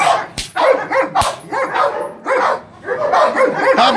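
A mixed-breed dog barks repeatedly and loudly at close range during an obedience training session, in quick bursts with short gaps and a couple of sharp clicks between them.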